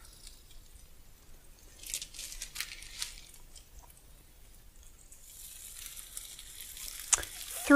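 Vegetarian patties hitting a hot cast iron griddle, a soft crackling sizzle with scattered pops that swells and grows steadily louder toward the end, quiet and close.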